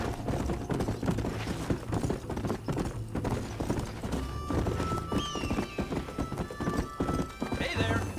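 Horses in the video game Red Dead Redemption trot with steady, close clip-clopping hooves, a horse whinnies, and game music and voices run underneath.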